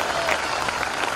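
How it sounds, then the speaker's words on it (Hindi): Brief burst of crowd applause at a Hindi satirical poetry gathering, steady and moderately loud, with a voice faintly present underneath. "तालियां बजा दीजिए"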